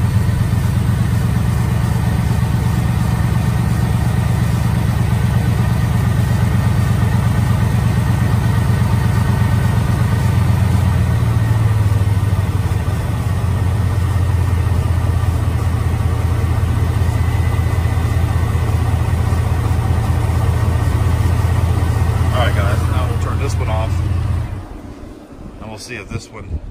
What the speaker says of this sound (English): I had this engine fixed, and it seems to sound a lot better.